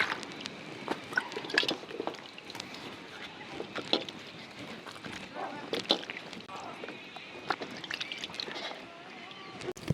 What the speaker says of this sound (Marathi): आता आपण या चांगल्या धुवून घेऊ चोळून